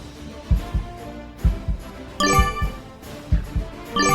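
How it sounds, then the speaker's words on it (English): A heartbeat sound effect from a Risk video game pulses in loud paired thumps, repeating at a steady rhythm, with a brief tonal chime layered in partway through. "That heartbeat is scary."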